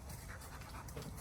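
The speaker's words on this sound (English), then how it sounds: "Springer Spaniel, fancy that?" A Springer Spaniel panting softly in a rhythmic run of quick breaths, faint against a noisy outdoor background.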